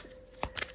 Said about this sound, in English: I'm shuffling this tarot.